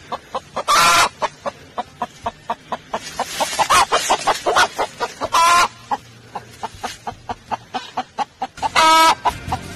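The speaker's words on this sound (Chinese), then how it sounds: "公鸡来了，这就是爱情" A rooster and a hen, found outdoors where the hen is brooding eggs, cluck in a rapid, steady series of short notes, broken by a few loud, harsh squawks close by.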